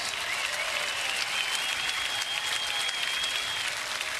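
A crowd at a NASCAR Cup Series championship race applauds military service members: a continuous, even wash of distant clapping and crowd noise with a faint steady tone running underneath.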